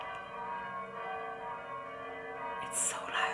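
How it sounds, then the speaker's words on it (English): Church bells at Kylemore Abbey in Galway ring at a distance before midday mass, their tones blending into a sustained, resonant hum, with a brief hiss near the end. "I hope you can hear the bells."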